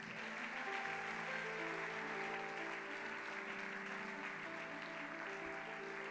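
A church congregation at a sermon on marriage breaks into applause praising God, a steady, full wash of clapping and cheering that continues throughout.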